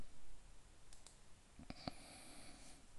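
Mouse clicks at a computer while setting up a title window in Premiere Pro, a few faint, sharp clicks in a very quiet room, one standing out more clearly among them.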